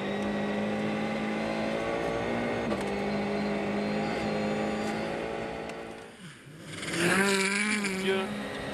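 A Ford Fiesta rally car driven by Mads Østberg on a snowy stage of Rally Sweden 2013, its engine droning steadily, then dipping briefly before a loud, rising rev burst as it passes close by, with commentary talking over it.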